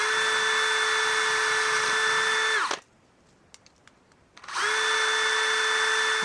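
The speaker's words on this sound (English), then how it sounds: "now that we have the holes drilled" Power drill boring holes, loud and close: a steady high whine runs for nearly three seconds, stops for a short quiet gap, then starts again and continues to the end.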